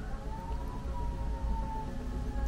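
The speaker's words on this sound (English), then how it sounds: "Can you hear that siren?" Outside, a siren wails with slowly rising and falling tones, distant and faint over a low rumbling background, with no talking, during a snowy-winter scene.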